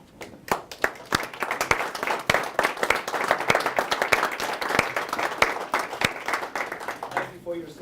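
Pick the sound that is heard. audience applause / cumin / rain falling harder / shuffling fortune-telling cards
audience applause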